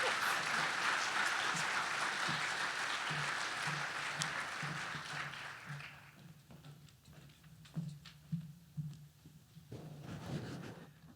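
An audience at a 2023 RAMP awards event applauds the award winners: dense, sustained clapping that fades after several seconds into scattered individual claps, then swells briefly again.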